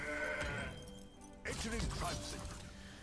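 Mountain Goat card in the Legends of Runeterra video game bleating as it is played, a short goat cry amid game effects and background sound.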